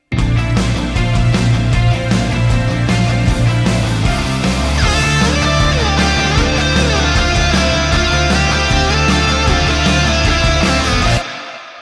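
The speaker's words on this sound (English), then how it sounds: "What you see here is my 80s AOR style jam track project" A loud 1980s AOR-style rock jam track plays with EZdrummer drums, driving beat, bass and guitars, dense and continuous, with brighter layered guitar parts entering midway before a sudden stop.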